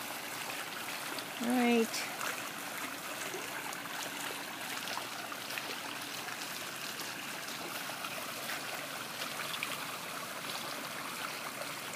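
Water flows out in a soft, continuous trickling stream after a quick start, steady and fairly faint, with a single brief spoken word near the beginning.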